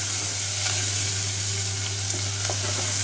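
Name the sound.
onion and paste frying and boiling in pan for tomato sambar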